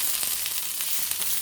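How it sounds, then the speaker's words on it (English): Sliced onion frying and browning in a pan gives a steady, close, even sizzle with fine crackling throughout, and no voices. "I'm frying onions."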